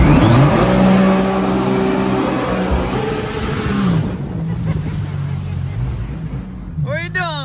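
A jet boat engine roars steadily and close up while speeding over a flooded river, holding a high whining pitch that eases slightly, with no voices.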